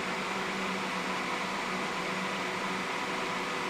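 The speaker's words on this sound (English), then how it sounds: "Initially just the fan comes on." An RV air conditioner on cool mode starts up with only its fan running, giving a steady, even broadband whoosh with a faint low hum underneath, constant and unbroken at moderate level, no voices.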